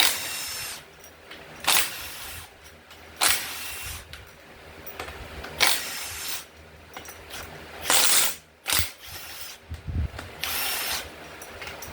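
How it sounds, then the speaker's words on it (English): Front bolts come out of a broken pump under a power tool, heard as a series of short, sharp whirring bursts at uneven intervals, close by, with quiet gaps between and no speech. "Looks like you start with just taking out the front bolts where they're already out of the way."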